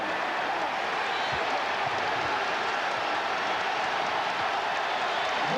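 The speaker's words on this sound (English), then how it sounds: "And the crowd obviously loves it." A packed arena crowd at an NBA playoff game between the Chicago Bulls and New York Knicks keeps up a loud, continuous roar of cheering and applause, steady and dense throughout.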